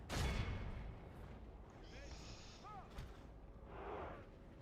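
Units exchange fire in a Total War battle from a High Elves campaign, with muffled booming volleys and a few short whistling projectile sounds in the distance under a steady din of the game battle.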